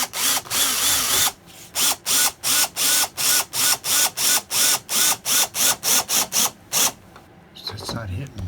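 Power drill driving screws through paneling inside a Sprinter van conversion, loud rapid bursts of whirring that pulse on and off in a steady stuttering rhythm, ending in a pause with handling noises.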